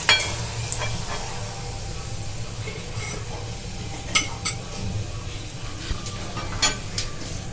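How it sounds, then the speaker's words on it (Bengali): Lentil kochori frying in hot oil, a steady soft sizzle and bubbling broken by occasional light clinks of a utensil in the pan. "আর একটা কচুরি আমি তেলেতে ছেড়ে দিচ্ছি।"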